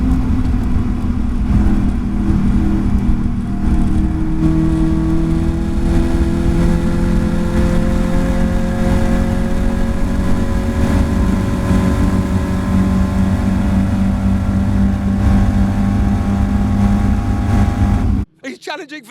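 Caterham Academy race cars at full throttle through Devil's Elbow at Mallory Park, a loud sustained engine roar with rising and falling pitch as cars pass, steady throughout before cutting off sharply near the end; commentary runs over it.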